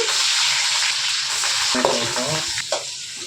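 Three thickly cut onions fry in oil in a pan with a steady hiss and a few stirring clatters near the end; no voices.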